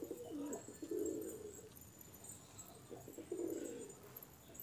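Racing homer pigeons coo softly inside a loft, with two soft rounds of low, throaty cooing a few seconds apart. Faint rustling fills the background and no one speaks.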